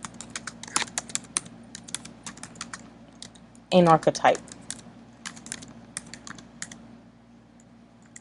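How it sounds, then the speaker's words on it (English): Close, quick clicking of keys on a computer keyboard in irregular bursts, briefly interrupted by a short spoken phrase before the typing resumes. "Typing too fast."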